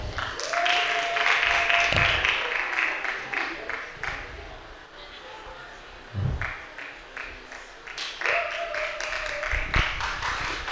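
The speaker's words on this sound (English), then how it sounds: "maybe we could welcome the speaker with a clap" An audience at an evening game-night awareness event claps to welcome a speaker, a dense patter of hands that swells and fades over several seconds, with voices and a few brief tones mixed in.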